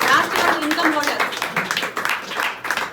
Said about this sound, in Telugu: మీరు గట్టిగా చప్పట్లు కొడితే madam leaders last month income holders